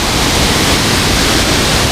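A second waterfall about five meters high, with another waterfall below it, roars as a steady, dense broadband rush of falling water, loud and continuous with no voices over it.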